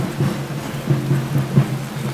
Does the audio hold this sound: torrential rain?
yes